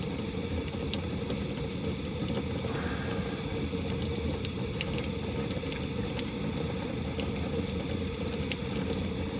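Water runs steadily over a soapy fan blade, a constant faint splashing hiss with a low pump-like hum beneath it.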